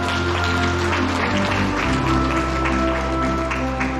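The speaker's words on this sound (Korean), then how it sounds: "박수 보내주시죠." Guests applaud at a museum exhibition opening in Jeonnam, a steady patter of clapping spread across a room, with a low sustained hum and background tones running underneath throughout.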